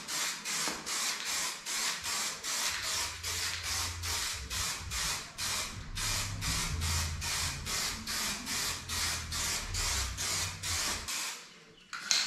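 Aerosol can spraying Raptor 1K protective coating onto a custom roof rack for a Y62 Nissan Patrol, a rapid run of short, evenly spaced hissing bursts, close and loud, with no talking.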